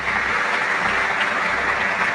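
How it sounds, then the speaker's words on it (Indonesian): Congregation applauding inside a church during a humorous sermon, a steady dense wash of clapping that holds evenly for a couple of seconds without any voices. "Tepuk tangan dulu, yang gereja bagus ini."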